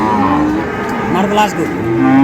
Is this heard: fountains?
no